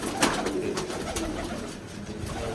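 Pigeons coo softly inside a loft where they have been laying and sitting on eggs, low murmuring calls repeating close by over light rustling and a few sharp knocks.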